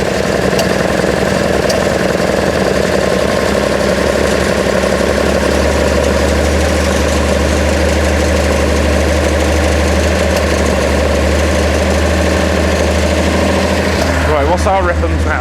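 A rebuilt Datsun L28 inline-six idles with a steady, loud, deep rumble up close. It carries a slightly uneven pulse from an occasional misfire, and a brief disturbance comes near the end.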